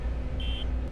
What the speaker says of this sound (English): Everything's beeping at me.